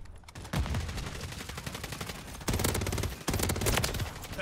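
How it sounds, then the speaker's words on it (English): Automatic gunfire from Call of Duty: Modern Warfare 3 comes in loud sustained bursts with rapid rounds and brief breaks, dense and close. "Taking effective fire."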